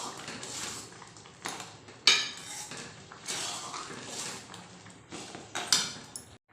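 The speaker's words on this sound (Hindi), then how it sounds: "अब हम डाल देते हैं जो मैंने मिश्री तोड़ कर रेडी किया है" Crushed rock sugar (mishri) tipped into a pot of kheer, giving scattered clinks and knocks of a spoon against the metal pot, with a couple of sharper metallic taps standing out near the start and end.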